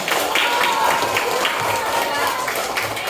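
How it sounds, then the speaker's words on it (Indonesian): Claps and a young crowd's cheering from a class 3 school group fill the space steadily, a continuous burst of applause with voices mixed in. "Luar biasa, itu tepuk tangan buat kalian"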